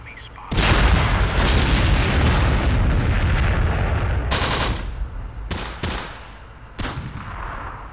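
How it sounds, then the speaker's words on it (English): Battlefield explosions and bursts of gunfire from the war video game Close Combat: The Bloody First, with loud booms and rattling fire that fade into scattered sharp shots. "some nice explosions going on there"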